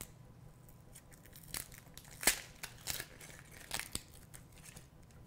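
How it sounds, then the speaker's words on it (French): Outer papery skin is peeled off an onion by hand, giving a handful of faint, brief crinkling and crackling snaps scattered over a quiet background. "J'enlève la première peau pour l'éplucher."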